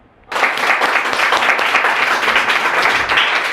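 An audience applauds at a Hindi poetry recital of Holi and patriotic verse, a dense, loud burst of many hands clapping that starts abruptly and holds steady without letting up.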